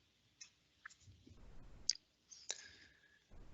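A computer mouse clicks a few times, sharp and close, in scattered single clicks separated by quiet gaps with faint desk handling noise.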